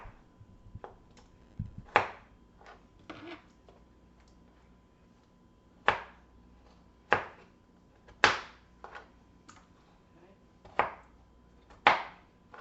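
Knife chopping through potatoes for homemade french fries, about a dozen sharp, irregular cuts at close range with short pauses between strokes, quiet background otherwise.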